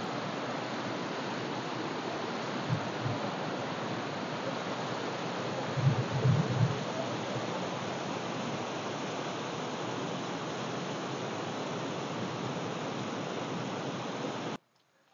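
Gunji waterfall pours into a flowing river in a forested area, a dense, steady rushing roar that stays constant and fairly close, with a couple of faint low thumps midway, before cutting off abruptly at the end.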